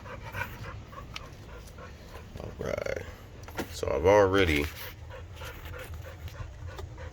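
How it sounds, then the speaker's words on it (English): A pet dog pants in a home workspace where a fuel pump is being wired, quick breathy puffs growing louder near the end, under a man's speech. "Look at my dog"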